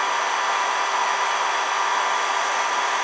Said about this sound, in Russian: от фена уже пластик поплыл